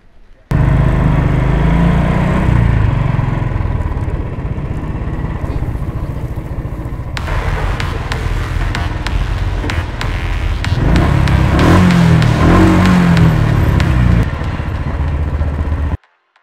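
A motorbike engine starts and settles into a loud, close, throbbing idle, then revs and rumbles as it pulls away, with voices talking over it partway through before it cuts off abruptly.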